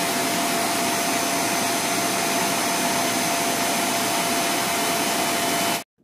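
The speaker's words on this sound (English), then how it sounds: "Less noise than most vacuums on the market." A Bissell Zing canister vacuum cleaner runs with a steady, loud, broadband whir and a faint constant tone, holding unchanged for about six seconds before cutting off abruptly to silence.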